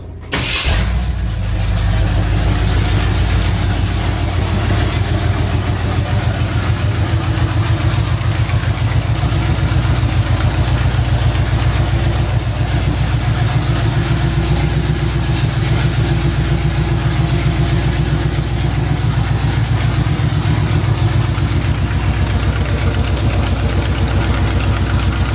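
A 1958 Chevy pickup, just fitted with a swapped motor, fires up with a quick start and then idles loudly and steadily up close, its low rumble holding even for the rest of the running.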